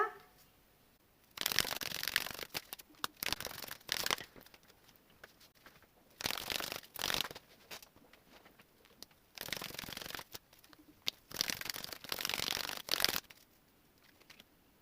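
Tarot cards being shuffled in several bursts of crisp riffling and flapping, close and fairly loud, separated by short quiet pauses with no talking.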